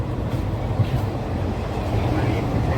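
Indian Railways sleeper class coach of the Amaravati Express running along the tracks, a steady low rumble and rattle filling the carriage continuously at moderate loudness, with no clear wheel clicks standing out.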